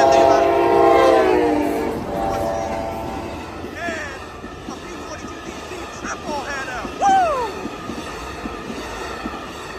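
An Amtrak Coast Starlight passenger train, triple-headed with an ALC-42 Charger leading, blares its horn loudly as it rumbles past on Fruitvale Ave in Oakland, California, followed by the steady clatter of wheels and a few squeals fading into the distance.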